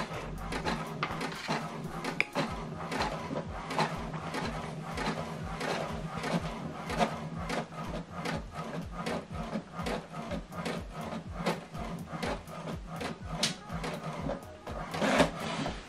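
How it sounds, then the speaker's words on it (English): A printer printing a document runs with a busy mechanical clatter of rapid repeated ticks and feed rattles, steady and moderately close throughout, with no talk. "Okay, the second one is printing."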